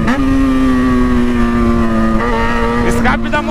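Yamaha XJ6 motorcycle accelerating hard, engine note held high and steady, then climbing through a gear change near the end, loud and close with no speech over it.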